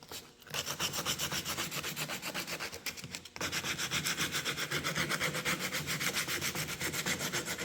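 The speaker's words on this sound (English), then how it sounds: "I'm just going to clean up all the edges with some sandpaper" Sandpaper rubs steadily over the cut edges of wooden scrollwork pieces for a shelf, a close, loud, rhythmic scratching of repeated back-and-forth strokes with one brief pause partway through.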